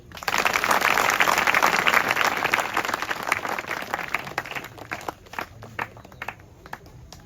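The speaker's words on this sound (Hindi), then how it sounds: "ताली बजाओ भाई।" A group claps rhythmically outdoors at long jump training, loud at first and then thinning into scattered claps, with footsteps of a runner's approach.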